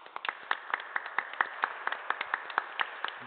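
A child claps small hands during a baptism in a quiet church, a quick irregular run of light, close claps with short pauses between them.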